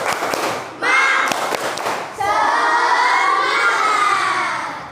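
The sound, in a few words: class doing a rhythmic spirit clap chant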